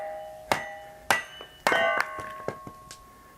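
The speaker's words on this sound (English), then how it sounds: "And that was even with the lightweight claw hammer." A lightweight claw hammer strikes a half piece of split firewood set in a Kindlin Cracker, giving several sharp, close wooden knocks with a ringing metallic edge, spaced roughly half a second apart and then fading into smaller taps.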